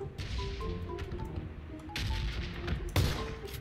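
Shotgun blasts in the video game PUBG, heavy booming shots that land at irregular intervals over a low rumbling game backdrop, moderately close.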